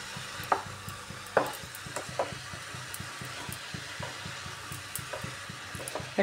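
Ash gourd being sautéed in a pan for a shrimp ghonto, with a low steady sizzle under repeated scraping strokes of a spatula and a few sharper knocks against the pan, close by and moderately quiet.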